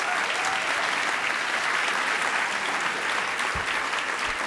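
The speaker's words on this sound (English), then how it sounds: "One more round of applause for all the mentors and the mentees who are here tonight" Sustained audience applause fills a banquet hall at a 2012 iMentor benefit dinner, a dense, steady wash of many hands clapping at even loudness throughout.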